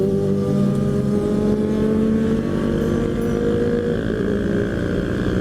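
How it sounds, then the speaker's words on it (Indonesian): A Kawasaki Ninja motorcycle, around 500 cc, rumbling close behind on a road between Jakarta and Puncak via Bogor, a loud steady engine drone with rising harmonic tones as it revs past. "Ini belakang ada motor apa nih, Ninja ini suaranya nih, mantap banget lah"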